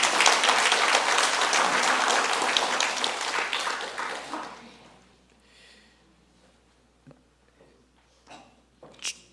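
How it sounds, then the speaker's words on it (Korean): A church congregation at a Sabbath service claps loudly together for several seconds, then the applause fades into quieter room noise with a few scattered sounds. "우리 이분한테는 박수를 좀 쳐도 돼요."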